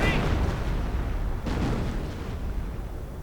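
Artillery fire rumbles in a WWII strategy video game as a continuous low, dense roar of distant booms, with a faint voice barely present underneath.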